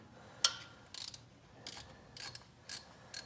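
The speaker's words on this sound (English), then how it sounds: "you hear one click at a time until it's out" Sharp ratchet clicks, one at a time at uneven intervals, while loosening the oil pressure sensor on a 2013 Ford Mustang GT, close and clear over a quiet background.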